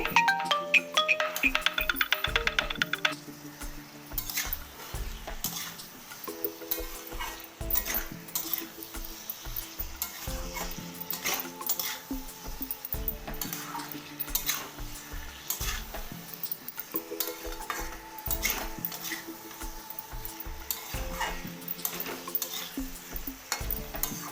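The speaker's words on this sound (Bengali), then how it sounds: "এবার আমি খুব ভালো করে মিশিয়ে নেব মশলাগুলো আলু আর মিষ্টি কুমড়োর সাথে" Spices being stirred together with potatoes and pumpkin in a frying pan for a vegetarian dish, steady scraping and clinking of a utensil against the pan over continuous loud background music throughout.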